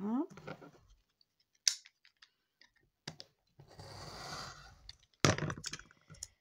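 Scissors snip through paper being trimmed for a handmade album, a few sharp separate cuts with quiet pauses between them, close and clear, with brief soft speech at the start.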